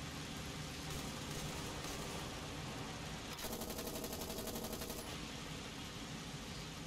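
An AMX 50 Foch tank in War Thunder rumbles steadily with a dense, continuous engine roar, joined midway by a brief rapid rattling burst like machine-gun fire; fairly quiet overall.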